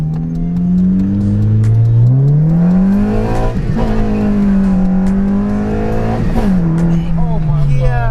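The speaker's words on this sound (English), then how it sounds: "It's a good streak to do a quick pull on." A Honda Civic Si accelerates hard in a pull, its engine climbing steadily in pitch through the gears with brief dips at each shift, loud and close from inside the car as people talk excitedly.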